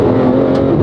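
A Porsche 911 GT3 RS flat-six engine revs hard, giving a loud, steady, dense roar that fills the whole moment, heard up close with no talking.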